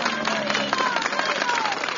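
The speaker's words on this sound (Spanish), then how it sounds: "Entre gritos y aplausos" Dense crowd of nearly a hundred neighbours outside a courthouse in Corcubión, applauding and shouting in support of the mayor; steady, loud clapping mixed with raised voices and cries for the whole span.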